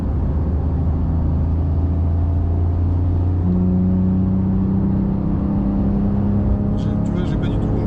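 A race car engine at Magny-Cours circuit drones steadily on light throttle, a close, sustained in-car hum with a gently shifting pitch and no big revs.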